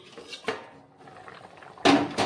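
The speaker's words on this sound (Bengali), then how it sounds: "এবার আমি ঢাকাটা উঠিয়ে নিচ্ছি" A lid lifted off a kadai of simmering curry, a clank near the start, a quiet stretch of faint bubbling, then two loud close metallic clatters as the lid is moved.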